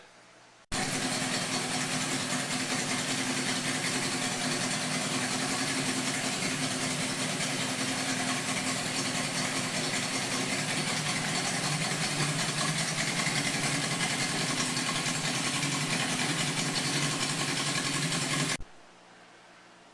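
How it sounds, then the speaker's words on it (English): A 1988 Yamaha Radian motorcycle engine runs at a steady idle, loud and close, starting abruptly and holding an even, continuous rumble for about eighteen seconds before cutting off sharply. "So it's running great. Motor sounds awesome."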